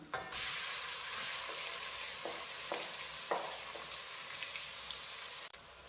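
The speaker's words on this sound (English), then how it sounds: "the chilies are starting to sizzle up, so I'm going to add the onions in" A steady sizzle of onions frying in hot oil with chilies, with a few soft clinks of stirring over the constant crackle.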